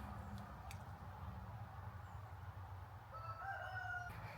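Chickens roam a yard, with a rooster crowing faintly in the distance and some soft clucking over steady low background noise.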